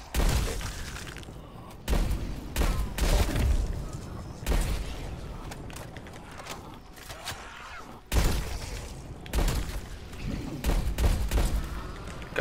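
Rapid bursts of gunfire fill a Call of Duty Black Ops Cold War zombies match on Nuketown 84. Dense, loud volleys repeat with brief gaps between them, and nobody speaks.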